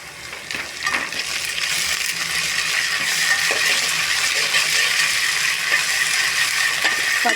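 Ginger garlic paste sizzles and fries steadily in a hot pan, a close, continuous crackling hiss with small clicks and stirring scrapes throughout, no voices.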